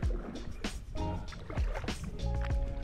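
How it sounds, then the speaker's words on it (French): A small old outboard motor drones steadily behind a kayak or small boat on the water near Castellane, with a continuous mid-loud engine hum and splashy water and paddle sounds layered over it. "il marche bien ce petit moteur derrière"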